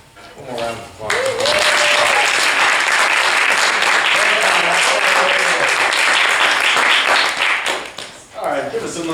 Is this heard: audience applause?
yes